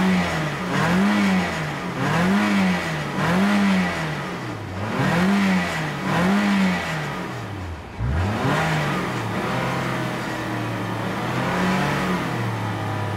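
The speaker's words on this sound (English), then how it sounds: "That's just a rattle. There's some piece of metal in there. It does run good. You can hear it." A 2010 Nissan Altima engine with a loose metal rattle revs repeatedly in rising and falling surges, then settles into a steadier drone; loud and close, with no talk.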